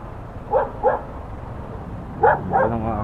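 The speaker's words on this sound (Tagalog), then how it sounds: "May aso pa." A dog barks in short bursts somewhere near a road where motorcycle traffic is stuck, with a few sharp barks over a steady low rumble of idling engines.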